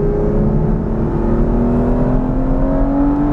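Manual Aston Martin V12 Vantage S engine accelerating hard: a loud, close, continuous roar that climbs steadily in pitch for a few seconds, with no speech.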